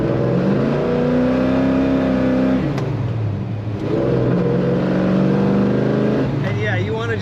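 A 1972 Chevrolet Chevelle Heavy Chevy tribute muscle car with a V8 and cowl induction hood drones loudly and steadily under acceleration, dipping briefly midway before the engine pulls hard again.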